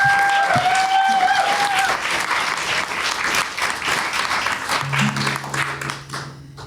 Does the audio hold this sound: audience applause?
yes